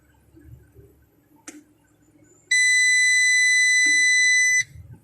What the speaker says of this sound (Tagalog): may buzzer kasi kaya maingay